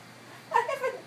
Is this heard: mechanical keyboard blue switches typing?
no